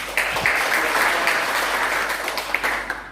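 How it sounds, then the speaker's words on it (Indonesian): Church congregation clapping for God during a Sunday worship service, a dense, steady wash of applause from many hands that carries on for a few seconds and fills the room. "Tepuk tangan buat Tuhan."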